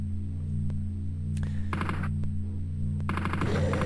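Gunfire in the Amiga game Alien Breed: Tower Assault, sparse electronic shots followed by two clusters of rapid buzzy firing over a steady low game hum.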